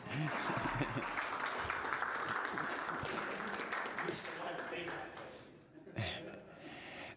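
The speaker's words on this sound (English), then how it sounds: "Applause are appropriate." Applause from a conference audience welcoming the first speaker at a morning session, a dense patter of many hands that gradually thins out, with a murmur of voices mixed in.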